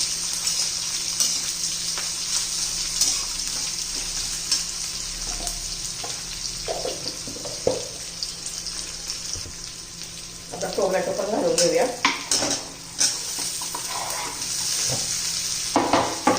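Onions and lentils sautéing in a pan sizzle steadily while a spoon stirs and scrapes them in uneven bursts, with a few louder clattering passes in the middle.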